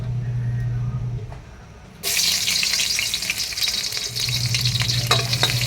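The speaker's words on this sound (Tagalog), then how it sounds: "ayan guys sigisa lang natin guys" Chicken feet for adobo sa gata sautéing in a pan, a loud crackling sizzle that bursts in after a quiet hum and keeps going with stirring scrapes.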